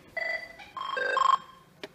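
An Avaya IP Office desk phone rings at close range in two short electronic bursts, followed by faint handset clicks. No one speaks.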